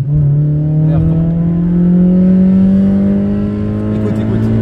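A car engine is held high against the rev limiter, a loud, close, sustained buzzing drone whose pitch climbs slowly, with someone talking over it.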